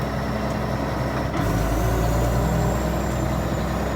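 Case 2870 tractor driving on grass beside a mucky road allowance, shifting into third on its power shift; a steady, loud engine drone with a brief dip and a step up in low rumble partway through, no talk.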